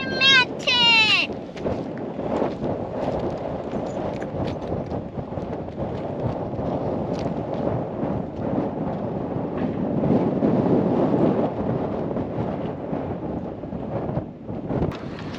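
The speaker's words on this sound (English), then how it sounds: "It's a bit blowy out here at the moment." Wind gusts across a hilltop above Coober Pedy, roaring steadily into the microphone with a dense, buffeting rumble that swells and eases over the whole stretch, a short high bleating squeal at the start.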